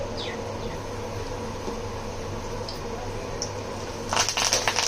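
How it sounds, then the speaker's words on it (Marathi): Mustard seeds, curry leaves and asafoetida sputter in hot oil for tempering, a quiet steady sizzle with sharper crackling pops near the end, close to the pan. "राई तडतडते चांगलं छान, म्हणजे फोडणी खमंग बसते"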